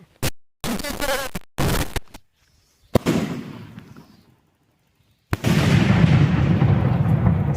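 Several sharp cracks and bursts in quick succession, a pause, then one powerful homemade country-made firecracker (nattu vedi) explosion with a long rumbling tail.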